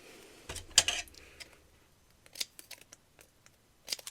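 Craft tape snipped and pressed onto a paper page, with a crisp cut early on followed by scattered light taps and small handling clicks, close and quiet with no talking.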